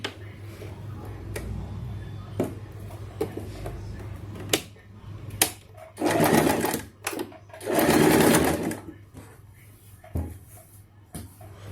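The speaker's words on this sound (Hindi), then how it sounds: "अब इस पर बेल्ट को चारों तरफ से सिलाई लगा देंगे इस तरह से" A sewing machine stitches a waistband onto a straight salwar, with two long bursts of fast rattling stitching among clicks and handling knocks, over a low steady hum.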